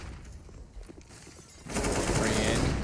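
Gunfire bursts from a professional CS:GO match on the Nuke map. A few faint shots and footsteps come first, then dense, loud rapid-fire volleys erupt and keep going, with a commentator talking over the early part.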